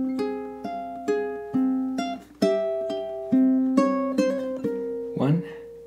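Spooky melody on ukulele, opening two measures played as a string of plucked notes, each ringing out and decaying, about a dozen in steady rhythm; a brief strum or brush sound near the end.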